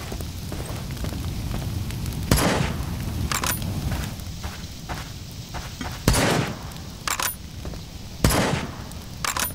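Gunfire from a weapon in the game Dysmantle rings out in several sharp, separate bursts of two or three shots each, spaced a few seconds apart over a steady low background hum.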